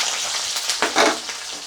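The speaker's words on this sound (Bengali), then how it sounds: "এবার আমার তেল গরম হয়ে গেছে আমি এটা পেঁয়াজটা দিয়ে নিচ্ছি" Onions dropped into hot oil in a home kitchen for a soybean-chunk and potato dish, giving a steady close sizzle with a brief louder crackling burst as they land, no talking.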